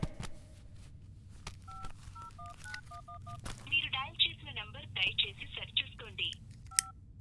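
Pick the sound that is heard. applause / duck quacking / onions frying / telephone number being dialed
telephone number being dialed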